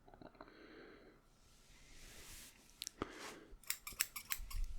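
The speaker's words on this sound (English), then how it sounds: "I usually just take a strand of hair and cut." Close, crisp snips of barber scissors cutting single strands of hair during a haircut, with a series of sharp clicks and snaps clustering toward the end after a softer rustling start.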